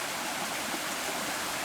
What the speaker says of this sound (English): It's a beautiful babbling brook.